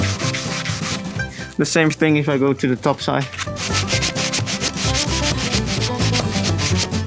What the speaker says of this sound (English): I just took the combination block, so I'm not sanding on the side, I'm just sanding on the foot itself.